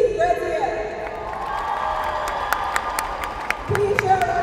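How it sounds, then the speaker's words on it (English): Applause and cheering from a crowd at a high school graduation ceremony, greeting returning staff members. Dense, continuous clapping fills the hall throughout, with some whoops and a voice on the sound system over it. "Please share a round of applause for our returning staff members."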